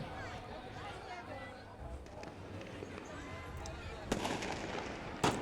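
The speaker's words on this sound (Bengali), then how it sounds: "এই যে আতশবাজি পারফরমেন্সগুলো দেখতে কিন্তু বেশ" Fireworks burst outdoors over old Dhaka during the Shakrain kite festival, with faint distant pops and two sharper cracks near the end, heard under a person talking and crowd noise.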